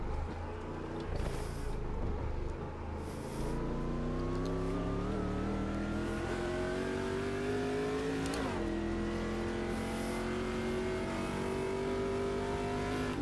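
Stadium Super Trucks racing around the Long Beach street circuit in Automobilista 2, engine droning steadily then revving up through rising gears, with a sharp shift change midway and continuous loud, close engine noise throughout.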